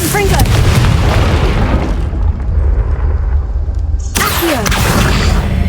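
A Confringo fire spell from Hogwarts Legacy goes off in loud, booming explosive bursts over dense game ambience, fading into a rumbling tail before another blast flares up near the end.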